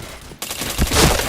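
Gunfire in the online shooter game Point Blank, a brief burst of rapid loud shots that erupts suddenly after a quieter moment and stays dense and close.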